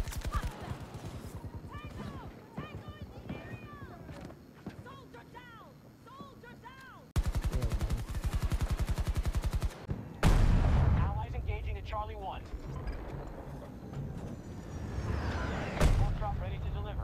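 Video game gunfire from a gun with a lot of bullets, sharp repeated shots and rapid bursts amid other game noises, with a voice talking over parts of it.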